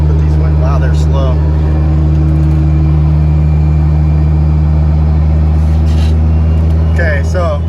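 A 2JZ-engined car with a Tilton ST246 twin-disc clutch lugs in fifth gear at about 1500 RPM, a loud, deep, steady engine drone heard from inside the cabin, with brief bits of a voice over it.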